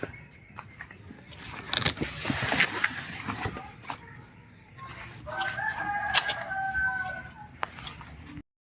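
A rooster crows outdoors, its drawn-out call rising mid-clip amid rustling, clucking and scattered background noises.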